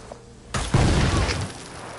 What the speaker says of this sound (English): I wonder if that explosion will be big enough to take them out